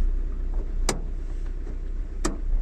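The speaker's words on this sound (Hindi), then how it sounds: "गाड़ी आ रही है, गाड़ी आ रही है, पास से निकालते हैं देखते हैं" A car passes along a road at night, heard as a steady low rumble of tyres and engine, with two sharp clicks or knocks standing out over the drone.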